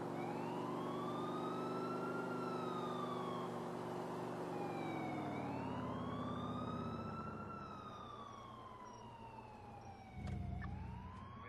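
An emergency vehicle's wailing siren rises and falls in long sweeps as it passes on a road while a driver waits, loud and steady throughout, then fading slightly toward the end with a brief thump near the close.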